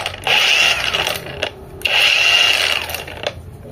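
A REAIM battery-operated grinder whirs at a high pitch in two steady bursts of about a second each, close and loud, spinning down briefly between runs.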